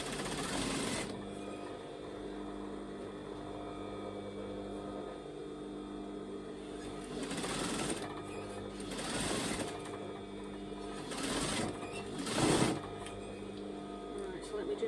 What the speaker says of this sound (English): I'm literally going to stitch that so that the fabric is just running